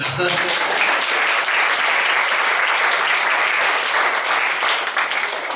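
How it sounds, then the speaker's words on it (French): Theatre audience at a comedy show applauding again, a dense, steady wash of clapping from many hands, loud and close throughout with no talk over it. "Je crois qu'on peut les applaudir encore."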